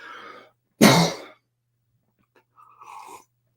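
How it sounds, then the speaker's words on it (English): A single loud, harsh cough bursts out close by, framed by brief quieter sounds before and after. "sorry, I have to cough again"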